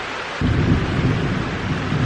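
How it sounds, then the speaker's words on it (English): Thunder rolls in with a loud, deep rumble during an outdoor thunderstorm, over a constant hiss of heavy rain that carries on for the whole stretch. "It is thundering like crazy out here and raining."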